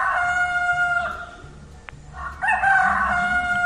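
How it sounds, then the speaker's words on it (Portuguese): A rooster crows in two loud, drawn-out calls close by, with strong harmonic tones, a brief pause between them and a low hum beneath. "É o galo!"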